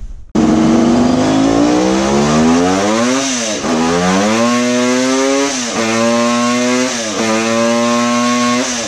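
A Kawasaki H2 750 triple-based 1250 five-cylinder two-stroke motorcycle engine runs on a dyno, roaring loud and close as it climbs through the revs in repeated sweeps, with brief dips between pulls and no talking.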